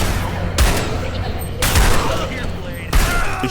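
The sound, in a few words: gunfire from pistol, shotgun or SMG in video game SiN Episodes: Emergence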